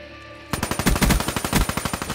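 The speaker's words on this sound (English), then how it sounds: "Now that's a gun with range. The Weevil." The Weevil rifle in Call of Duty Black Ops 3 fires a steady, rapid automatic burst of evenly spaced loud shots, close and dry, lasting about a second and a half after a brief quiet start.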